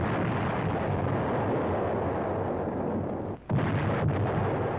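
A 155 mm artillery gun fires shells at a Japanese stronghold in a WWII jungle setting, giving a heavy sustained roar of blasts with a brief dip and then a fresh burst.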